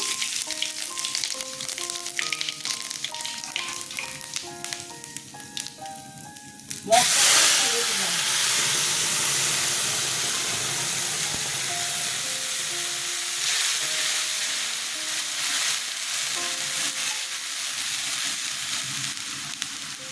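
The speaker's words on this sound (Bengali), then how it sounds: "আমি এখন ফোড়নে শুকনো জিরে দিয়ে দিলাম" Dry cumin seeds drop into hot oil for tempering a Bengali potol chingri dalna, bursting into a loud, sustained sizzle and crackle that replaces the earlier quieter frying, with some speech underneath.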